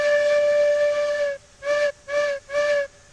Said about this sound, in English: so let's use the whistle